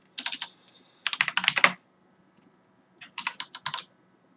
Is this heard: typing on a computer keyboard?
yes